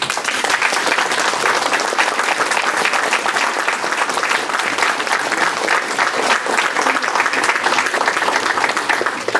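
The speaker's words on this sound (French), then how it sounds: "je crois qu'on peut les applaudir encore une fois." A large crowd applauds at an official ceremony in Creil marking the 78th anniversary of the 8 May 1945 victory, with loud, dense, sustained clapping filling the whole stretch without pause.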